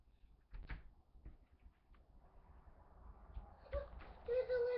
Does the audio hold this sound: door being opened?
yes